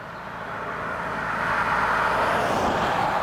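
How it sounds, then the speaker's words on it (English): Interior cabin drone of a 2023 Hyundai Santa Fe Hybrid in Elite trim while driving, a steady broadband road and engine rumble that swells slightly as speed builds, with no talking. "here I am driving the new Hyundai Santa Fe Hybrid"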